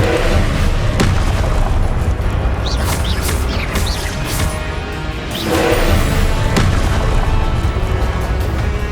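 The Confringo fire spell in Hogwarts Legacy lets off loud, booming explosions over continuous heavy battle noise, with several sharp bursts spread through the fight.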